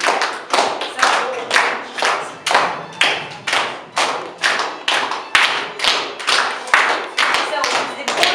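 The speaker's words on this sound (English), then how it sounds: "or clap your hands" Children clap their hands together in a steady, even rhythm, about two claps per second, loud and close, keeping time along with Irish music at a school event.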